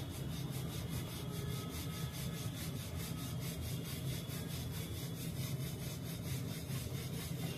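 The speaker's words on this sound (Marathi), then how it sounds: "आणि आता पोळी लाटायला सुरुवात करूया." A rolling pin rolls out puranpoli dough, made with moong dal and dusted with rice flour, on a board in a home kitchen, giving a steady, repeated soft rubbing and rumbling sound, close and continuous with no talk.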